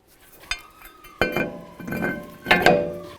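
A metal brake rotor is picked up and handled during rear wheel bearing and hub replacement on a 2009-2020 Dodge Journey, giving several sharp, close metallic clinks and clanks with no talking.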